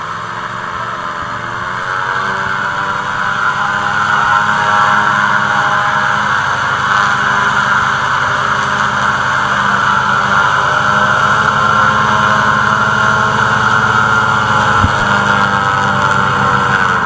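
A Christy hovercraft engine runs at Rushikonda Beach, a steady loud droning roar with a constant mechanical hum that rises slightly after the start and holds level throughout, with no talking.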